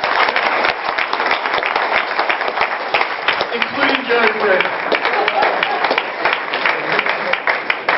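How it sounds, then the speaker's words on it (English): Applause from an audience honouring the Odell family at an endorsement celebration, a dense steady wash of clapping running the whole time with a person speaking over it. "I think we should have a warm round of applause for them"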